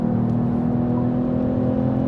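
Synthesized engine note of a Mercedes-AMG CLE53 coupe piped through the cabin speakers, a steady low hum with a constant tone held throughout at moderate level, no talking.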